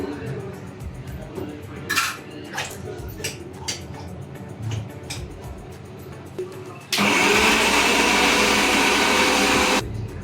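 Kitchen mixer grinder blitzing ginger, garlic, green chili, coriander and tomato into a paste for chicken kaleji masala, a loud whirring roar that starts abruptly after some clatter and quiet handling and runs for about three seconds before cutting off.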